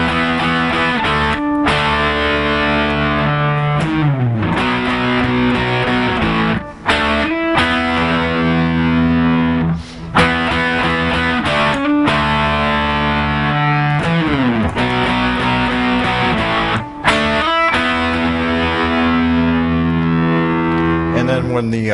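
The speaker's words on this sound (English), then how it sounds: "So that whole riff again with the distortion." A distorted electric guitar plays a riff, loud and sustained throughout, with chugging chords and brief palm-muted gaps between phrases.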